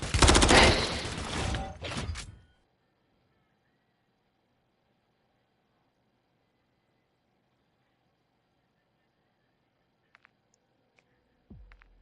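Burst of shotgun fire in a video game, a rapid cluster of loud blasts over about two seconds, then near silence with a faint thump at the end.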